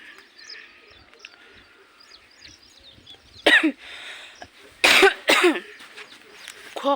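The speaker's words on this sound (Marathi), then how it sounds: "खोकला," A person gives three sharp, close coughs: one single cough, then two in quick succession near the end, over a quiet indoor background with faint bird chirps.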